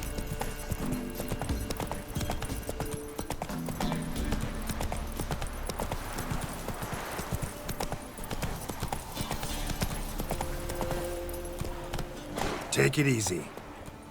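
Roach, a horse in The Witcher 3, clip-clops along in a steady hoofbeat rhythm through most of the stretch, with a voice speaking briefly over the gallop and game sounds layered around it.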